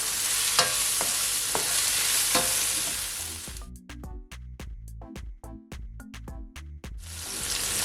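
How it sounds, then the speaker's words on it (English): Seasoning sizzles in a hot frying pan with steady crackle and a few stirring scrapes, then the hiss cuts out to a run of sharp taps and clatters before sizzling returns. "Give it a stir."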